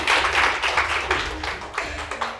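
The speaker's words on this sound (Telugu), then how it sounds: "thanks, claps" An audience claps at a makeup training academy event, a short burst of dense, steady hand claps filling the moment with no one talking.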